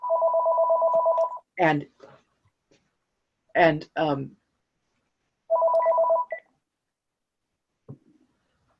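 A telephone rings in two long trilling bursts, loud and close, with someone speaking briefly in the gaps between rings.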